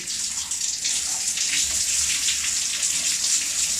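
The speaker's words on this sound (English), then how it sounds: "just getting in the shower." Shower water sprays and splashes in a steady, hissing rush, close by and unbroken throughout.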